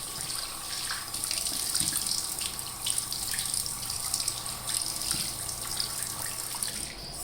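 Tap water runs steadily from a faucet into a sink for a rinse after shaving, a continuous close hiss and splash throughout with no talking.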